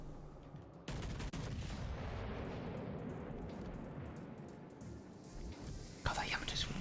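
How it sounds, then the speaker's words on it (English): Naval shells ricochet off warships in World of Warships. The sound is a faint, continuous battle rumble with sudden sharp impact bursts near the start and the end, and soft voices murmur underneath. "There you go, there's a few more ricochets"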